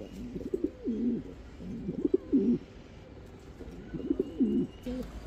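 Pigeons, including Damascene and Budapest breeds, coo in repeated rolling phrases, three distinct bouts separated by short pauses, fairly close and clear over low background noise.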